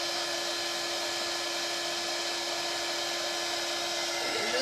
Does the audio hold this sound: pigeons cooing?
no